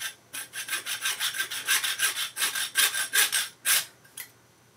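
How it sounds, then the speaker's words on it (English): Rhythmic hand sawing, a steady series of raspy back-and-forth strokes on wood, close and fairly loud, with a couple of final uneven strokes. "this is only after a couple minutes of sawing through this thing"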